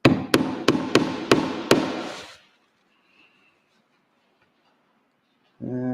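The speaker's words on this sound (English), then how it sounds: "Some hammer noise." Six sharp hammer blows ring out in a steady rhythm, close and loud, followed by near silence, then a brief voice at the end.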